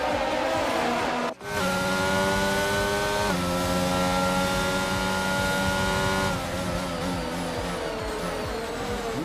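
Formula One cars in the F1 22 game accelerate hard away from the race start at the Mexico round, a loud sustained engine roar with rising whining pitches, cut by a brief dropout early, then shifting pitches as gears change.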